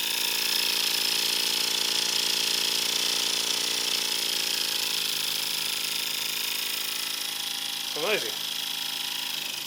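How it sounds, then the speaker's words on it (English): A cheap RW-BL1K model steam engine running smoothly at raised RPM on about 1.5 bar, giving a steady, fast, even mechanical whir throughout, with a brief spoken exclamation near the end. "So if we increase the RPM, look how smooth that runs."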